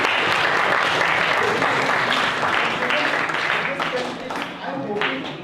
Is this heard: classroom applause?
yes